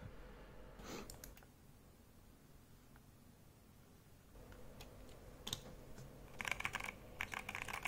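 Keys clack on a custom hot-swap mechanical keyboard, quiet and close, with sparse presses early on and a denser burst of typing near the end over faint room noise.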